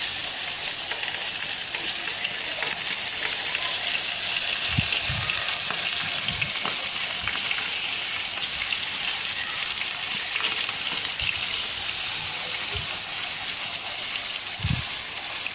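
Fish sizzle steadily in hot oil in a pan, a continuous loud frying hiss with occasional soft knocks and pops, no talking.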